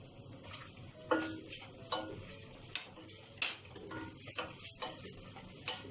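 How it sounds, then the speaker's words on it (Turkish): A spoon stirs tomato paste into fried peppers in a pot, giving intermittent scraping strokes over a soft, steady sizzle. "Salçamı boşalttım. Şöyle çevireceğim içinde."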